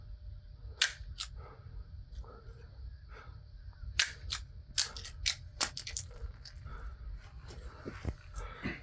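A Colt All American 2000 pistol loaded with Phoenix ammo fires a string of sharp, fairly faint cracks, some single and some in quick pairs, spread across several seconds over low background rumble.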